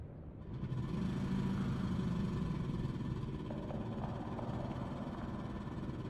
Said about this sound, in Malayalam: engine start